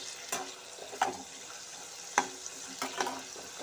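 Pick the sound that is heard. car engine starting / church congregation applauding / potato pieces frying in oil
potato pieces frying in oil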